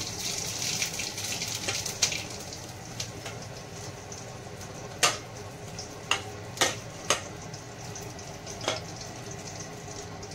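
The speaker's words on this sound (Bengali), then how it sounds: "ফোড়ন দিয়ে দিচ্ছি একবারে আমি তেজপাতা আর শুকনো লঙ্কা" Bay leaf, dried red chilli and whole cumin seeds crackle in hot oil, a soft steady sizzle broken by scattered sharp pops and spits, close and quiet with no voices.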